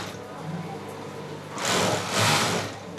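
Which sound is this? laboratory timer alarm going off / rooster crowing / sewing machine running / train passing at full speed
sewing machine running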